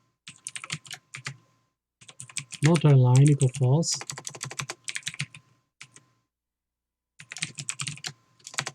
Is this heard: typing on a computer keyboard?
yes